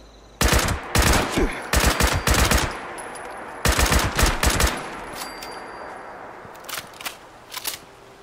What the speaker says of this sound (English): Who's shooting random bullets?